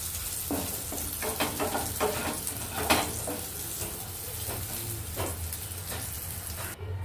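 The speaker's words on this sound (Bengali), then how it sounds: "দেখো উচ্ছেটা আমার ভালো করে ভাজা হয়ে গেছে, কড়া কড়া করে ভাজা হয়ে গেছে" Bitter gourd pieces fry in hot oil in a home kitchen, giving a steady sizzle close by. Scattered crackles and pops run through it, with a few clicks of utensils.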